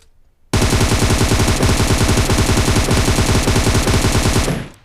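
Automatic gunfire in BGMI mobile gameplay: after a brief quiet start, a loud continuous burst of rapid machine-gun shots runs for about four seconds, then cuts off sharply.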